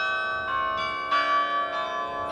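Carillon bells ring from a campanile built as a war memorial, a series of sustained, overlapping bell strikes with long ringing tones, loud and close, each new note layering over the fading previous ones.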